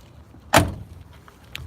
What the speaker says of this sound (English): I love that shutting of those doors.